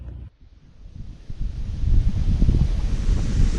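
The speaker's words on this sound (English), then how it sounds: "Wind through the trees." Wind blowing through trees on an October golf course, a steady rushing roar that swells louder after a brief dip, with strong low rumble from gusts against the microphone.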